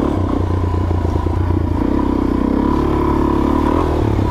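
A Suzuki DRZ400 dual sport motorcycle rides a main trail in Idaho. Its engine runs loud and steady throughout with a rough, throbbing note, and the pitch rises slightly partway through.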